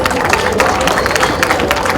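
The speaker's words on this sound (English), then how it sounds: "Give them a round of applause, please." An audience at a town hall meeting in Boston applauds loudly, a thick continuous wash of clapping with crowd murmur mixed in, sustained and close throughout.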